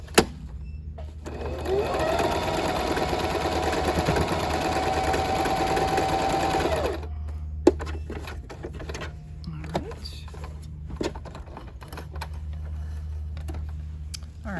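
A sewing machine stitches the corners of a bag, running in one steady, loud motor hum for about five seconds. Quieter handling and a low background hum follow.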